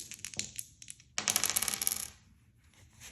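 A pair of dice rattle and tumble across a table, one short tap, then a loud clattering roll that settles into quiet, close and crisp with no voices.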